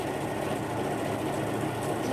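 A sewing machine stitches fabric with a steady, continuous mechanical whir that holds at an even level throughout, close by and alone.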